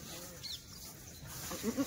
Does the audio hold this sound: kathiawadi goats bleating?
yes